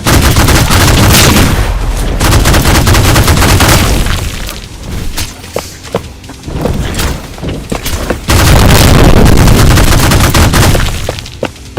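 Gun firing in a roguelite shooter video game, loud repeated shots and booming blasts in dense bursts, with a quieter stretch of scattered shots in the middle.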